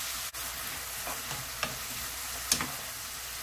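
Shredded zucchini stir-fries with garlic and Korean soup soy sauce, a continuous soft sizzle broken by a few brief scraping clicks of a utensil against the pan.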